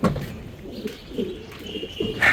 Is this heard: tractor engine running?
no